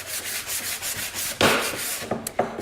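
A pine picture frame is hand-sanded to take off its surface sheen, with repeated rhythmic back-and-forth scratchy strokes close to the microphone and a few sharper, harder passes toward the end.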